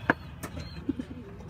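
A racing pigeon coos softly a few times amid faint background noise and a brief sharp click at the start.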